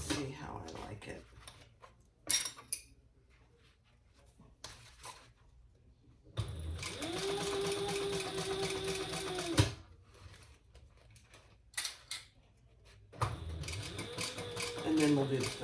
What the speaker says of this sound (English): I'm just going to baste it in place first and see how I like it.